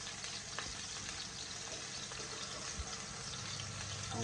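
Salmon fillet searing in a pan, a steady close sizzle and crackle running throughout with a few brief pops, no voices.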